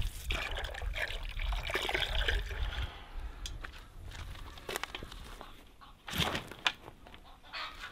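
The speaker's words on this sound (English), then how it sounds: "I have to fill up a lot of these buckets" Water from a tank pours and trickles into buckets at a garden homestead, a steady running splash with chickens clucking nearby and occasional clunks.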